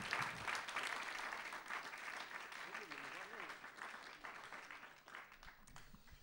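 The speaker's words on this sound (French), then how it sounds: "on peut l'applaudir encore une fois." Faint, fairly distant clapping from a studio audience on the French television program Hors Cadre continues for several seconds, mixed with indistinct voices and murmuring.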